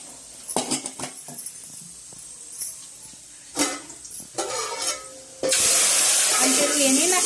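Spices hit hot oil in a pan as a tempering for rice, starting with scattered clinks and stirring scrapes, then a loud sudden burst of sizzling that hisses steadily to the end.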